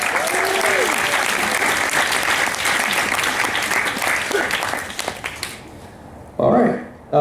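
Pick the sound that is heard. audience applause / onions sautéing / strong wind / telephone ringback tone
audience applause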